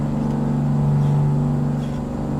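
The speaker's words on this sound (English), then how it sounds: "This is a Screaming Jimmy. So it's a 2-stroke Detroit. You don't hear these very often." Two-stroke Detroit Diesel "Screaming Jimmy" truck engine in American Truck Simulator, a loud steady droning rev with strong low harmonics that swell briefly, heard alone with no talk.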